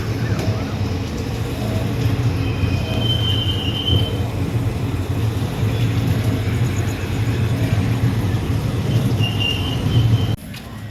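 A train rumbles at Ramanathapuram railway station, a loud steady low drone of engine and carriages close by with faint high squeals drifting over it, then cutting off abruptly near the end.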